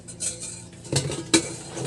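Six stainless steel spoons handled together give sharp metallic clinks, a few distinct taps and a brighter clatter over quiet shuffling, close and fairly loud.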